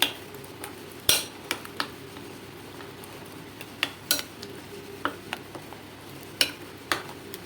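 Spicy lemon chili pickle with green chillies is mixed in a dish, the spoon scraping and clinking against it in sharp, irregular taps over quiet background.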